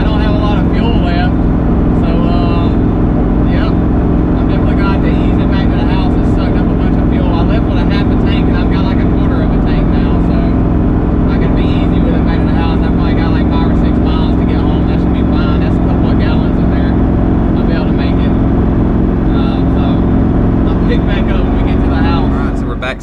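Car engine idling along while cruising back to the house, a loud steady drone with constant low rumble and someone talking over it throughout.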